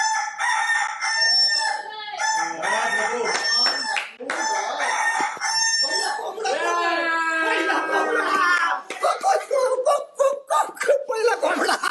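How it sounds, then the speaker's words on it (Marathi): A loud, close rooster crow played as a wake-up call in the Bigg Boss Marathi house repeats several times over about twelve seconds, with clucking and other fowl calls between the crows. "पहिला कोंबडा"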